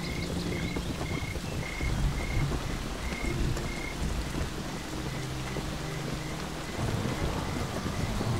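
Heavy rain pours down on the Serengeti plains under dark afternoon skies, a continuous loud hiss of drops with low rolling thunder rumbling beneath and a few faint repeated chirps in the background.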